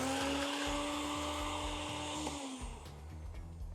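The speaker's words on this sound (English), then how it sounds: "we're gonna blend these up until they are a nice fine powder" A small blender whirs loudly and steadily, grinding freeze-dried strawberries into a fine powder, with a constant high motor whine and a pitch drop near the end.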